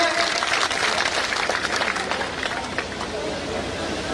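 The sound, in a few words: audience applause welcoming Karan Chautala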